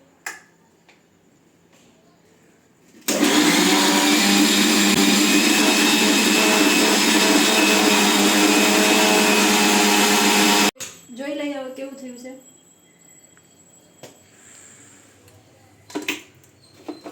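An electric mixer grinder whirs loudly and steadily for about eight seconds while grinding chutney paste for Ahmedabad-style cholafali. It cuts off abruptly, and quiet talking follows before and after the run.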